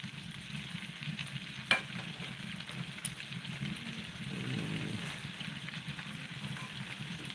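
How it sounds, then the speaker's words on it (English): Steak in a pan sizzles steadily while it is basted with garlic butter sauce, a continuous close frying hiss with a couple of sharp clinks of the utensil against the pan. "you see how we base it with the sauce, the garlic butter sauce"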